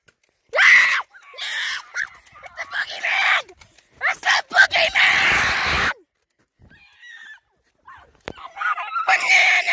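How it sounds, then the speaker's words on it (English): Several people screaming in loud, shrill bursts separated by short silences, with strained voices rising and breaking throughout. "Okay, we'll stop screaming."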